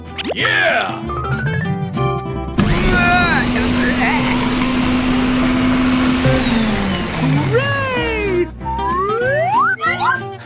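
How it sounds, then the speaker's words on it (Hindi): A loud blender motor whirs steadily for several seconds mixing a drink, with people talking and making playful vocal sounds before and after. "और बस इन सबको ब्लेंडर में डालकर मिलाया गया है।"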